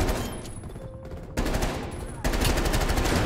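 Groza assault rifle firing in Black Ops Cold War, sharp rapid bursts in two clear volleys after a short quieter gap, loud and close.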